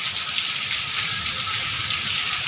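Heavy rain pours steadily in rural Punjab, a dense, continuous hiss close by with no breaks and no voices.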